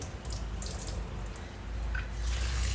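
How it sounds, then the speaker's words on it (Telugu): Water runs and splashes steadily as it is poured into a bowl to wash bitter gourds, with a soft continuous flow and a faint drip, no voices. "మళ్ళీ రెండోసారి కూడా వాటర్ పోసి కడుక్కోవాలి"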